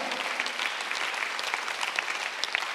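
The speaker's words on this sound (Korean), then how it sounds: "박수 하나 드세요" A congregation at a Sunday church worship service claps steadily throughout, a dense, even patter of many hands at moderate volume with no voices over it.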